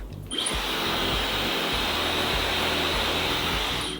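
A hair dryer blows with a steady, loud whooshing roar that starts abruptly and holds constant throughout, with no talking.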